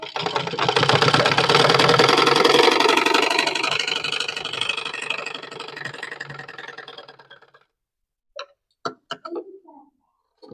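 A sewing machine runs a straight stitch, whirring in a fast, steady mechanical rhythm for about seven seconds before stopping, followed by a few short clicks.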